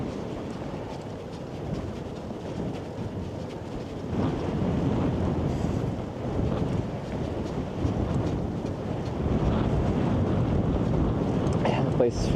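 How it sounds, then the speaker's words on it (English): Headwind on a cycling trip near the Arctic Circle in Norway buffets the microphone as a loud, continuous low rumble, swelling stronger after a few seconds, with no voices heard. "now I feel headwind, but it isn't like brutal or anything, but it's there."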